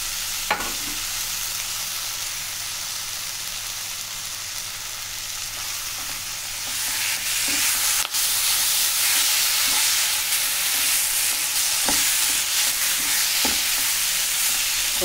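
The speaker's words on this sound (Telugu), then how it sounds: "ఇప్పుడు ఈ మసాలా రుబ్బుకునింది వేసేసుకున్నాము" Ground masala paste frying in hot oil for a Senagalu masala curry, giving a loud, continuous sizzle with occasional sharp clicks of a stirring spoon against the pan.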